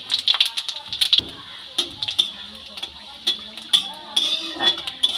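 Spoon stirs three dried chillies and a spoonful of panch phoron in hot mustard oil for samosa filling, with light repeated scraping clinks of metal on the pan and a soft sizzle. A voice talks throughout.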